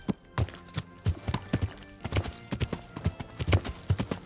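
Horse hooves clip-clopping in steady riding rhythm in the medieval game Kingdom Come: Deliverance, close and clear, with a brief whinny-like tone and no talking.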